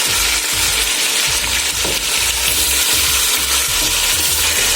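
Seasoned, marinated meat cooking in a pot for yam stew, a loud, dense, continuous sizzle and bubbling close by, with faint clicking underneath and no talk.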